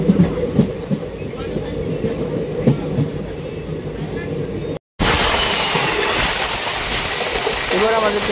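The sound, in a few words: express train running at high speed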